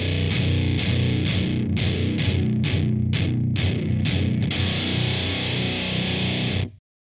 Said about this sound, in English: Boss Fuzz, that octave fuzz thing.